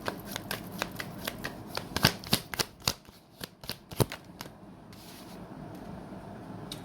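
Tarot cards are shuffled and drawn at close range: a run of crisp riffling slaps and flicks, some sharper than others, fading into soft paper rustling near the end.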